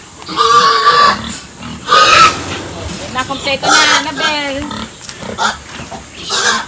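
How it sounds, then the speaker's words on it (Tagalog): Pigs grunt and squeal repeatedly in a pen while being prepared for transport to market, the loud bursts close by and mixed with people talking over them. "Andito na yung mga baboy."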